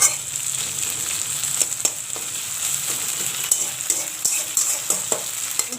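Tomatoes frying in a pan with dried and chopped green chillies, a continuous close sizzle punctuated by regular scraping stirs of a utensil against the pan.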